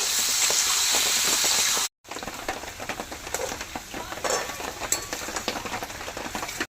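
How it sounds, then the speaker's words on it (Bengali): Steady hissing sizzle of potatoes frying in oil with turmeric and salt, briefly cutting out, then returning with scattered clinks and scraping from stirring. "এবার দেবো হলুদ গুঁড়ো আর দেবো লবণ, চালিয়ে তেলের সাথে ভেজে নেব।"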